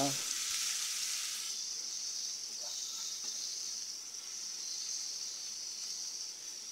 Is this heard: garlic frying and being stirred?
yes